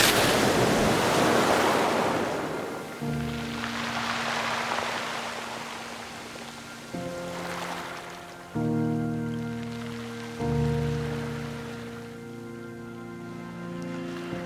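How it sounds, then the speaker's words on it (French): Ocean waves wash onto a beach in a steady, loud surging hiss, with sustained music chords layered over the surf for most of the stretch. "Quelques vagues se mouvaient"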